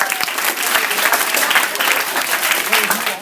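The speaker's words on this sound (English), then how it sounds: "Let's give a round of applause for" A dense burst of audience applause at a skit night, many hands clapping loudly and continuously for a few seconds with faint crowd voices underneath.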